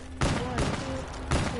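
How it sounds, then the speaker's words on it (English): Machine gun fire in Call of Duty Black Ops 3 Zombies, loud rattling bursts that start, pause briefly and resume, with a final burst near the end. "Oh, I hate this kind of machine guns."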